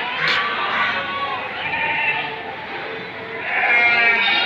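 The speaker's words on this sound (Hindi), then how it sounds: "ये भी देख लो, बहुत बड़ा बकरा है।" Goats bleating at a busy goat market, several loud nearby calls rising and falling over a crowd murmur, with people talking throughout.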